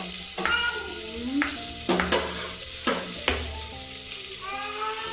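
Chopped onion sautéing and browning in a pan at home, a steady close sizzle broken by repeated stirring scrapes, with background tones and no talk.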